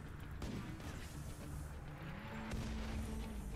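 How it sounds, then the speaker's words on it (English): A colony's mortars fire on an enemy ship in the Rimworld strategy game. Two faint, distant booms stand out over a quiet, low background rumble. "the mortars are, are killing it right now"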